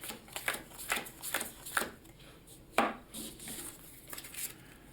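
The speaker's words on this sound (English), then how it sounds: "I'm gonna have to shuffle a couple more mixes. Make sure it's nice and random." A deck of game cards is riffled and mixed in a series of quick crisp bursts, close by, with short pauses between each shuffle and one sharper snap near the middle.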